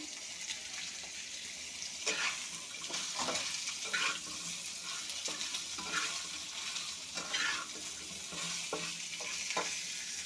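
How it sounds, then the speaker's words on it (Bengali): Moringa drumsticks frying with salt in a pan, a steady hissing sizzle with repeated scraping strokes as they are stirred, moderately loud throughout. "সাজনাগুলো ভালোভাবে ভেজে নেব।"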